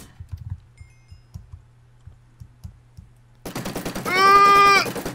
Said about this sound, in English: Ow, why are you shooting behind me?